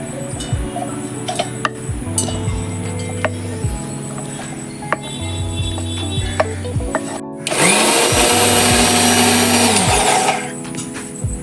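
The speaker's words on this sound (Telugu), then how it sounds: "ఇలా ఈ అంతటినీ ఇలా మెత్తగా మిక్సీ చేసుకోవాలండి" A mixer grinder whirs loudly as it grinds roasted masala spices to a fine powder for a green peas curry, running in one steady burst for a few seconds over background music.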